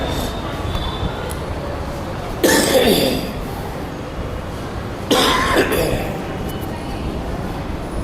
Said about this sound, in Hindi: खांसी ने हमको भी परेशान कर दिया।